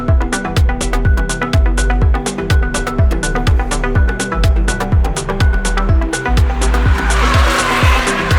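Drift cars at Mobara Circuit scream through repeated rev cycles, the engines rising and bouncing off the limiter over and over while tires squeal and skid. The sound is loud and close, and a harsh hiss of tire smoke builds toward the end.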